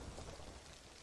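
Low, distant thunder rumbles beneath a steady wash of rain in the video game DayZ on Xbox Series S, fairly quiet and continuous throughout.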